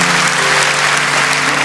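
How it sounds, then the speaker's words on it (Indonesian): A church congregation claps loudly during a service, dense continuous applause from many hands, close and full, with a low sustained instrumental tone underneath. "Kasih tepuk tangan untuk Tuhan."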